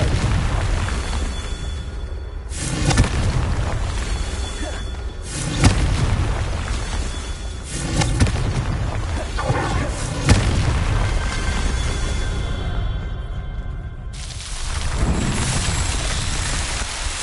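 Repeated booming blasts of the Confringo fire spell in Hogwarts Legacy, several loud explosions spaced a few seconds apart over a rumbling, crackling game backdrop.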